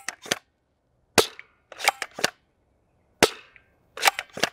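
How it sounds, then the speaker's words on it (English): A Talonclaw toy blaster fired outdoors at a cinder block, several sharp, loud, close pops spaced irregularly, some in quick pairs, with silence between shots. "It's very much a peel and pop kind of blaster."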